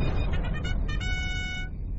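A phone rings with a repeating electronic ringtone pattern over a steady low background rumble, with no talk during the ring.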